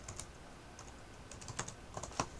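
Computer keyboard keys clack in quick, irregular bursts, close and fairly quiet, with no voices.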